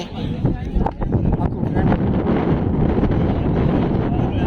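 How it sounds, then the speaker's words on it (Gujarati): Strong, steady wind buffets the microphone with a constant low roar on Banbha Dungar hilltop near Surat, and a voice talks faintly underneath. "મસ્ત પવન આવે છે, મજા આવે"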